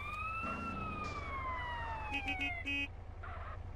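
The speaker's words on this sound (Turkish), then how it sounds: "Sirenleri açalım." A police car siren wails in GTA San Andreas, rising and then falling in a long sweep at moderate loudness, with a few short electronic blips near the end.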